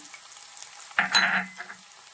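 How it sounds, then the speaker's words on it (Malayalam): Ginger, garlic and green chili sauté in a pan for a prawn roast, a quiet background hiss broken by a brief close burst of sizzling and stirring about midway. "പിന്നെ നമ്മൾ എടുത്തു വെച്ചിരിക്കുന്ന പച്ചമുളക് ഇത്രയും കൂടിയിട്ട് നമുക്ക് നന്നായിട്ടൊന്ന് വഴറ്റിയെടുക്കാം"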